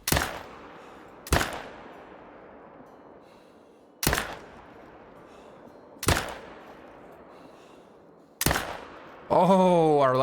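Five loud rifle shots in the hunting game Call of the Wild, fired at red deer, each a sharp crack trailing into a long echoing decay, spaced a few seconds apart; a brief rising electronic tone follows the last one.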